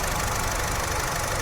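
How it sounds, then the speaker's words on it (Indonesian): A 2013 Honda Brio automatic idling smoothly, a steady, even engine hum close by with a constant low rumble and no knocking or other noises, running alone without talk. "Mesin halus, nggak ada bunyi ngelitik atau yang lainnya"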